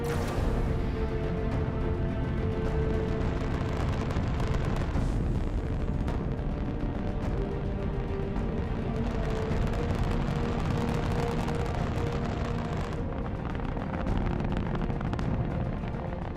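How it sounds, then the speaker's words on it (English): Saturn V rocket lifting off from the pad at Kennedy Space Center for Apollo 17, a continuous, dense, rumbling roar that stays loud and steady throughout with no voices over it. "It's just like daylight here at Kennedy Space Center as the Saturn V is moving off the pad."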